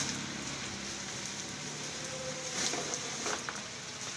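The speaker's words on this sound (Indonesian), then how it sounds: "Ya hujan." Steady rain falls as a dense, even hiss, with a few louder drips and taps coming through later, continuous and moderately close with no talk.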